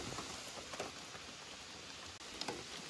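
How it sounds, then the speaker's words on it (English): Steady rain falls at a lakeside campsite at Putnam Pond in the Adirondacks, a constant hiss of drops with a few brief louder patters, no voices heard. "It's so rainy."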